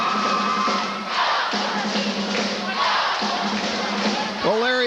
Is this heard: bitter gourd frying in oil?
no